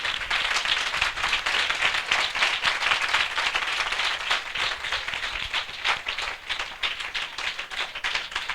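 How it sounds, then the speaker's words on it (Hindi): A church congregation at a Hindi-language worship service applauds with dense, sustained clapping that stays loud and steady for the whole stretch, with no speech over it. "हम जोरदार तालियों से उनका स्वागत करें,"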